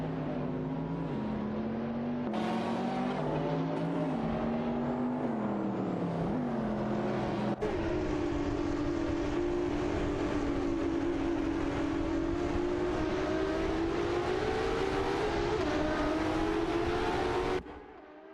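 Race car engines in a racing video game roar continuously, pitch rising and shifting through gear changes, a steady loud drone for most of the stretch before cutting off at the end.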